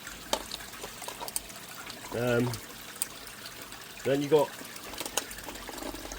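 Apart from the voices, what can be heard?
water running near a pond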